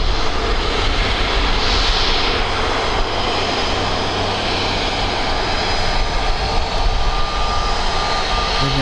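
EasyJet airliner jet engines at Birmingham airport, a loud, continuous broadband roar that stays steady and close throughout.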